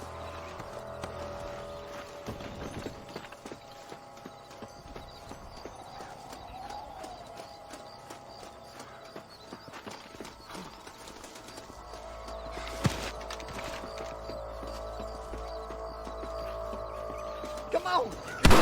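Horse hooves clatter in a quick clip-clop rhythm amid the Red Dead Redemption game soundscape, with shouted voices and other effects rising near the end.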